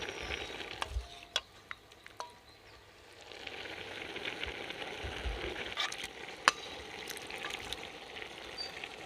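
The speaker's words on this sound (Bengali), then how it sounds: "এবার আমি এই মাংসটা তুলে ভাতের মধ্যে দিয়ে দেব" Chicken meat for tehari being added to nearly cooked rice in a pot, a few sharp clinks of a spoon followed by a steady low frying sizzle and soft stirring, close and fairly quiet with no talking.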